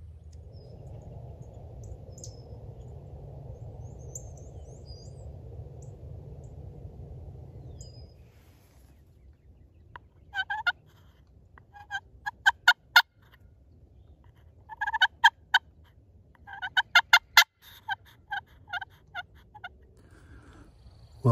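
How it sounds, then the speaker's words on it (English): Wild turkey gobbling at sunrise in the woods, several rattling gobbles in bursts, fairly distant and faint over a quiet background after a low droning rumble fades out. "We kept hearing some gobbling off in the distance"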